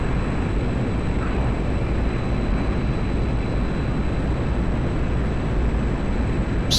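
A MiG-21 jet in the DCS flight simulator, heard as a steady, loud broadband engine and airflow roar with a thin high tone running throughout, continuous and unchanging.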